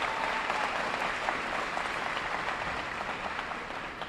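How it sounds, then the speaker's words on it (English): Sustained audience applause at a Super School Meals kickoff event, a dense, steady wash of clapping filling the room at even loudness from start to finish, with no talk over it. "So again, let's give them a round of applause."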